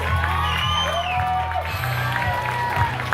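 Wedding guests at the reception applauding and cheering for the bride and groom, steady clapping mixed with whoops and shouts, under a lively crowd and some talk.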